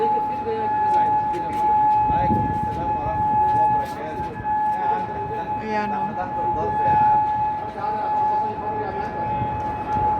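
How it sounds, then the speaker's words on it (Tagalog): An air raid siren in Kuwait holds one steady wailing tone the whole time, with shops closing and a voice speaking over it. "dahil sa tunog na naman ng sirena"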